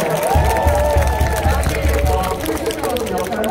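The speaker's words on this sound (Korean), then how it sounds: "박수 한번 더 보내주세요" Baseball fans applaud at a stadium after a Kiwoom Heroes player's cheer-stage greeting during a game against KIA, a dense, steady clatter of crowd clapping and cheering, loud and close, thinning slightly toward the end.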